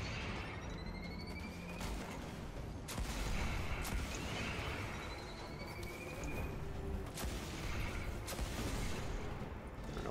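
Scorch Cannon rocket explosions in Destiny amid dense gunfire, with repeated booming blasts and crackling shots over a continuous, moderately loud battle din.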